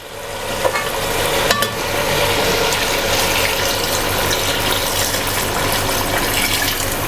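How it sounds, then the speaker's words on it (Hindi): Water poured into a pot of cooked meat for chicken pulao, a steady close rushing and sizzling wash with a few clinks of utensils, and no talk. "अब मैं इसके अंदर पानी डालती हूँ।"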